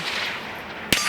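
A single rifle shot cracks once near the end, loud and close, striking a steel plate target at range, over steady wind or background hiss.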